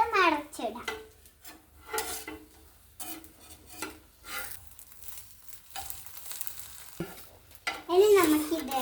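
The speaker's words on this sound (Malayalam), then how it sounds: "ഇനി നമുക്ക് ഈ ചട്ടുക എടുത്ത് മടച്ചിടാം." A spatula scrapes and folds an egg omelette in a sizzling pan, soft stirring and rubbing strokes with faint frying hiss, intermittent and close, while someone talks over it.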